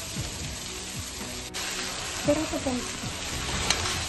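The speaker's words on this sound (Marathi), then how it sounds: "मी इथं आपण बॉईल केलेले नूडल्स टाकलेले आहेत आणि त्याला आपण आता फ्राय करून घेऊया." Boiled noodles fry in a pan with a quiet hiss and crackle, broken by a few utensil clicks and scrapes.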